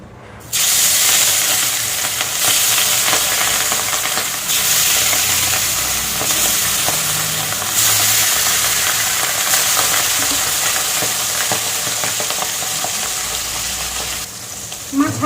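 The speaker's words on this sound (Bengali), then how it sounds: "মাছ হালকা করে ভেজে নিয়েছি" Hilsa fish rubbed with salt and turmeric, frying in hot oil in a kadai: a loud, continuous sizzle and hiss running close and steady for the whole stretch.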